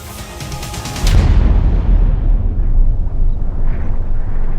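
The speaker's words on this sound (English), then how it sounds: "Tumeken exploded in an enormous blast, destroying much of his own army" An enormous blast from an exploding figure in a RuneScape fantasy battle starts with a bright crackling burst, then becomes a heavy, sustained rumbling roar that stays loud and deep to the end.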